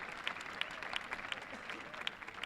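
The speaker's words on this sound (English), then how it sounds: "class of 2013, please join me in applauding those who have helped us arrive at this destination." Applause at a 2013 high school graduation ceremony, a crowd's dense clapping heard at a moderate distance with scattered sharper claps and a faint murmur of voices.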